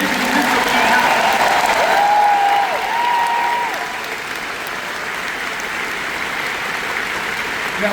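Audience applause at a D23 panel event, a dense, sustained clapping from a large crowd that stays loud and even for several seconds before easing slightly, with no talking over it.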